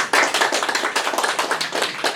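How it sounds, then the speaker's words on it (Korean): A small audience at a press conference claps briskly for a couple of seconds, close and fairly loud, the individual hand claps forming a quick uneven patter. "큰 박수로 맞이해 주시면 고맙겠습니다."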